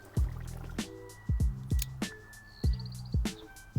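Basmati rice being washed in water, about a dozen separate drips and splashes in an uneven rhythm, close and fairly quiet, with no talking.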